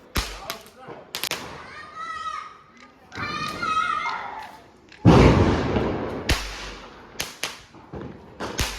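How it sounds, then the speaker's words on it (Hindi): Diwali firecrackers burst in sharp, loud bangs and cracks, a few spaced across the stretch with one big blast in the middle, while people talk between them. "पटाखे चल रहे हैं"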